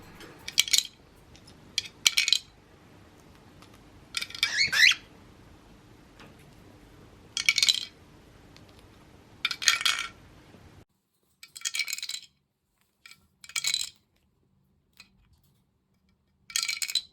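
Small plastic bottles clatter and drop through a toy plastic vending machine worked by a parrot, as irregular bursts of light clicking and clinking separated by short quiet gaps.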